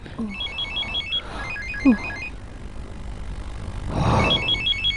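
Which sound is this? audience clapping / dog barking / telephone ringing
telephone ringing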